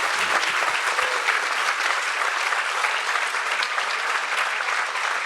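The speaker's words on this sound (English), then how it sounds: "Give the Reverend a great big hand clap one more time for that." Audience giving a speaker a big round of applause at a conversation event, dense sustained clapping from a large crowd, loud and steady throughout.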